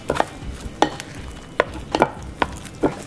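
Injeolmi glutinous rice cake mixture being mixed from the bottom up, giving about six soft, sticky stirring strokes at a steady rhythm, close by, with no talking.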